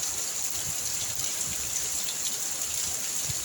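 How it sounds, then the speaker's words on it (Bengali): Heavy rain pours outside a home's shrine room, giving a constant, even hiss of falling water at moderate loudness with no talking. "কি বৃষ্টি পড়ছে"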